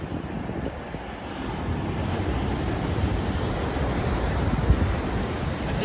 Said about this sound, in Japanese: またザブーンってくるかな。